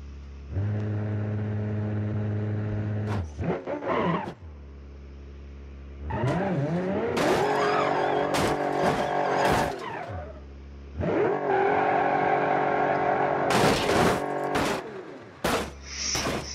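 Simulated car engine in the Automation racing game revs hard and loud through repeated accelerating bursts, dropping off between runs, with sharp tire squeals cutting in near the end.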